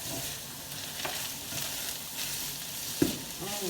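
Onions sizzle and fry steadily in a pan, a continuous crackling hiss with a brief stir or clink near the end, no voices over it.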